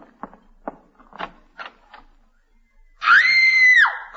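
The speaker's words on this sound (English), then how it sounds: "stop screaming" A woman lets out one loud, sustained scream in an old-time radio comedy, rising sharply and holding before cutting off, preceded by a few brief muffled knocks and thumps.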